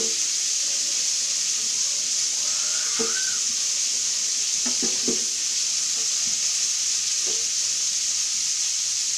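Fajita meat sizzling in a pan while it cooks, a steady bright hiss throughout with occasional faint clinks and scrapes of utensils in the background.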